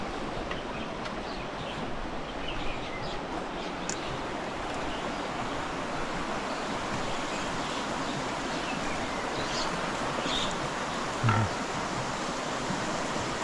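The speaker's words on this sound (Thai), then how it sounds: "เสียงน้ำไหลปุ๊บปุ๊บปุ๊บปุ๊บอยู่ข้างด้านขวาของเราเนี่ย" Steady broadband rush of flowing water at Bo Sai Waterfall, continuous and fairly even, like a nearby stream running over rocks, with no talking.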